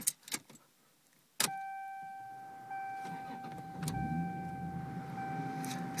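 A 1993 Lexus SC300, lowered, cranks and fires with a sharp burst, then settles into a steady idle that carries on beneath a faint electrical whine, with a few clicks and knocks near the start.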